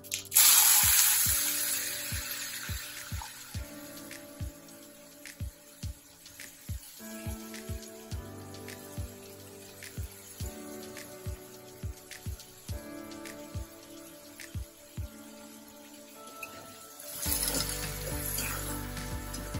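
Cut potatoes dropped into hot oil with mustard seeds and cumin, a loud sizzling burst at the start, then steady crackling pops and ticks, and another strong sizzle surge near the end.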